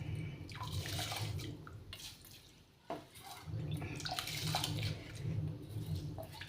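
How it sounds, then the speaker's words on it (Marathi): Water in a pot for thin khichdi comes to a boil with a steady bubbling, churning wash, briefly dipping near the middle before resuming at a constant, fairly close level, with no talking. "आता आपलं पाणी गरम झालेलं आहे आणि असं उकळत आलेलं आहे."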